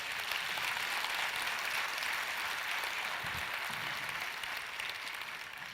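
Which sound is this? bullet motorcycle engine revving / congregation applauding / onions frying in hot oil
congregation applauding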